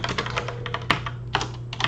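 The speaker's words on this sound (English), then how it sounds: "I'll even type this out so that we can look at it and have it written down for us" Fingers typing on a computer keyboard in quick, uneven bursts of close clicking keystrokes, with a few louder key strikes, over a faint steady hum and no speech.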